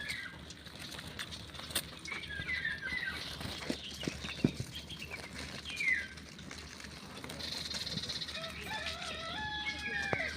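Birds and chickens in a rural setting in Saudi Arabia, with a rooster crowing and hens clucking amid scattered chirps and calls over a steady outdoor background, all fairly distant and moderate in level.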